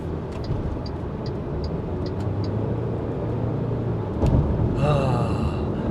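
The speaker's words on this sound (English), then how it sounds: "Been a while since I hear the sound of a car engine." A car engine runs steadily at low idle, a continuous close rumble that stays even throughout with no talking.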